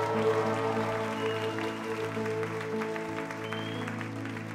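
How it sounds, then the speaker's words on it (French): A church congregation claps and cheers together in a sustained, dense wash of applause that stays loud and steady throughout, with a sustained musical accompaniment underneath. "est-ce qu'on peut pousser un cri de joie ce matin pour Jésus"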